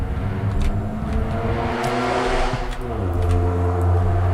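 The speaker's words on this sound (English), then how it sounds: "There's a very loud car outside." A very loud car revs outside, its engine climbing and falling in layered growling tones before settling into a deep rumble, heard alone.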